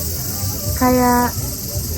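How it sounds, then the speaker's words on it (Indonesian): Cicadas buzz through a Kyoto summer as a steady, loud, high-pitched drone, with a brief tonal chirp rising above it partway through, and no talk over it. "Sama ini yang belakang nih suara. Cicadas ya?"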